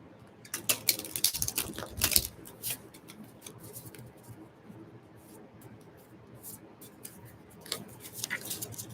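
Tarot cards are handled and drawn close by, with a quick flurry of crisp snaps and flicks early on, then softer sliding and tapping with scattered light clicks.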